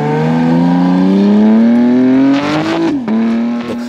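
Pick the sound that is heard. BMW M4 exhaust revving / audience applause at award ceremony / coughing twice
BMW M4 exhaust revving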